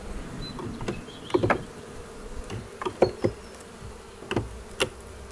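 Honey bees buzz around an opened hive during the first spring inspection, with mould inside. Faint steady hum with several brief louder buzzes as individual bees pass close, plus occasional light knocks.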